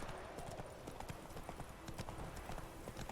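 Horse hooves gallop at a quick, steady clip-clop in The Witcher 3, close and continuous throughout, with game ambience behind.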